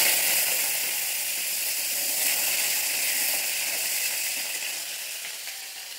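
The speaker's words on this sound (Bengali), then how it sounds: "আলু কটা একটু ভেজে নিচ্ছি" Diced potato pieces fry in hot oil with a steady, even sizzle and hiss that fades slightly toward the end, with no talking.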